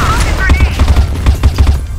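Rapid bursts of gunfire crackle in a video game shooter, loud, close and repeated in quick succession, with a voice talking over part of it.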